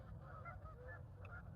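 Several geese honk continuously outdoors, a steady overlapping chorus of calls over a low background rumble, with no talking.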